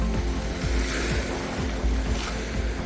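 Sea waves on the rocky Yorkshire coast, a continuous close wash of surf with soft broadband hiss and some wind, no voices.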